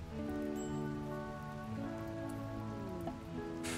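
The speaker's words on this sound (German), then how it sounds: "Ist ja Regen, ne?" Rain falls steadily in the video game RimWorld, a dense constant hiss of drops under sustained musical tones from the game's soundtrack, with a brief brighter burst near the end.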